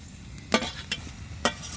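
Chopped coriander leaves going into a pan of roasting spices: a soft, steady sizzle broken by a few sharp scraping stirs, close and without speech.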